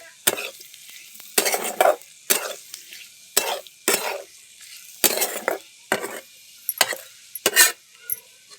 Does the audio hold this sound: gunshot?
no